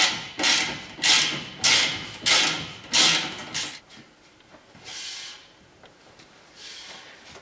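A bolt is threaded into a bed rack on a 2023 Polaris Ranger 1000XP, giving a series of about six regular ratcheting mechanical strokes up close, then fainter scattered clicks and taps.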